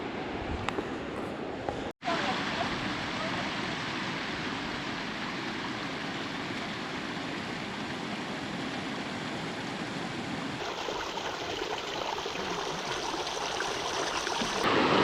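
North River flowing beside a hiking trail toward its lower falls, a steady, even wash of rushing water heard throughout at moderate distance, with a brief dropout near the start.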